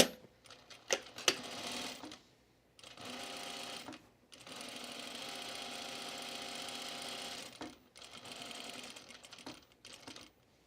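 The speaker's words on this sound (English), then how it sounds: "I'm going to backstitch into the dart like that." A sewing machine backstitches into a dart on a dress being refashioned, running in several short bursts and longer steady stretches of rapid mechanical stitching, close and fairly quiet, with brief pauses between runs.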